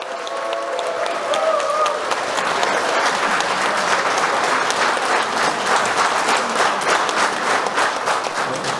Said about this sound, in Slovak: Poďakujme preto veľkým potleskom a s láskou jednej žene